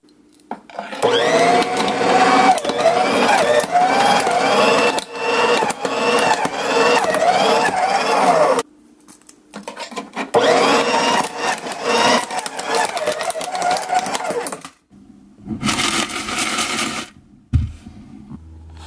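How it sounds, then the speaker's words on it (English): A homemade shredder chews up plastic pieces for 3D printer filament, giving loud grinding and crackling bursts that stop and start in several runs, separated by brief quiet pauses. "I'm going to see if I can shred a few pieces."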